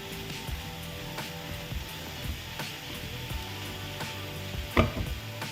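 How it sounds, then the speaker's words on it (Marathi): Raw banana sabji frying slowly in a pan, a low steady hiss with occasional soft clicks and a brief clatter near the end, faint and close with no voices. "ह्याला बरेच वेळ असा फ्राय करत राहावं लागतं"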